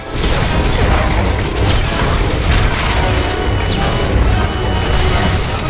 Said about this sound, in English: Another swing from the Annihilation droid's cannon sends the Juggernaut flying.